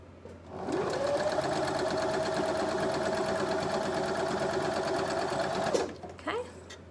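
A sewing machine stitches a quilt block in one continuous whirring run of about five seconds, close and loud, then stops with a brief rattle; no talk during the run.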